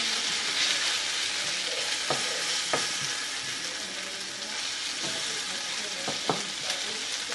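Onions frying in a pan until brown, a constant close sizzle broken by a few sharp spatula knocks and scrapes, with no speech over it.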